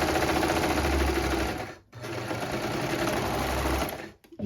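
A sewing machine stitches steadily around the edge of a reversible halter cropped top, running loud and close in two long bursts with a brief stop between them and another short pause near the end.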